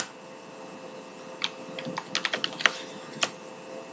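Computer keyboard typing during Java programming work: a few scattered key clicks, then a quicker burst of taps, close and fairly clear over a low steady hum, with no talking.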